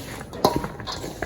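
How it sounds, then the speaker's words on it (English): Flour-coated peanuts (groundnuts) are shaken in a bowl, giving a short burst of rattling, clinking knocks with a louder hit near the middle, close and clear. "Continue shaking, doing this till the whole groundnut is covered"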